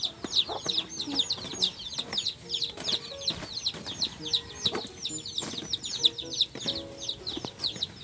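Backyard chickens cluck in quick, steady runs, fairly close and continuous, with scattered knocks and light background sounds.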